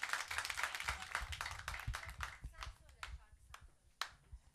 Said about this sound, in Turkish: Alkış alalım sevgili Mikael'e